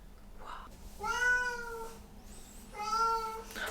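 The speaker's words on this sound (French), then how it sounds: "Adam n'est pas content et du coup il miaule." A cat named Adam meows indoors, a soft short sound first, then two long, loud, drawn-out meows separated by a pause, close to the listener.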